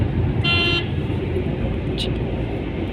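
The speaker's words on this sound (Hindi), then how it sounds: "60 का स्पीड में चला रहे, पूरा सही से पिकअप वुकअप चल रहा है।" A Hyundai Eon car drives at about 60 in fourth gear with a steady road and engine rumble, a brief horn toot from nearby traffic, and someone talking over it.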